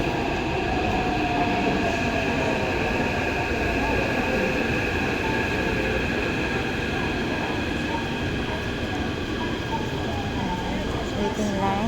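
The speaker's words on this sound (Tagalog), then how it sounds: "parating na ang train papuntang Dongmen" A Taipei MRT metro train pulls into the station, a steady rumble of wheels on rail with faint squeals and rising whine filling the platform throughout, with a voice talking over it.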